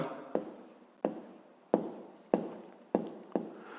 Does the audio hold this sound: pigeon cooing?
no